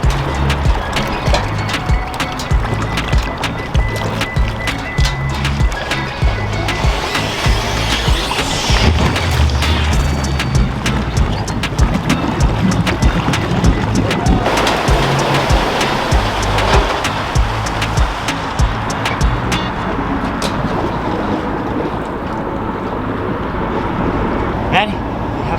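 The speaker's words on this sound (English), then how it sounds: "But now it's time to launch the boat." A boat being launched off a trailer into water, towed by a 2023 Toyota Sequoia, with a steady engine rumble, splashing and thumps, and voices talking now and then.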